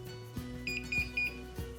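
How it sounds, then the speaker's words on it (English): A Wi-Fi water leak sensor, set off by a damp sponge, sounds its audible alarm: a few short, high electronic beeps in quick succession over a low background hum, with no voices. "it will sound an audible alarm,"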